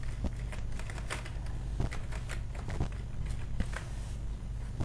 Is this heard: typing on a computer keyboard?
yes